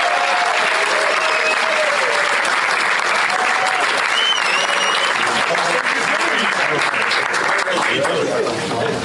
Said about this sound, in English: Please give a warm round of applause for our good friend, Mr. George Takei.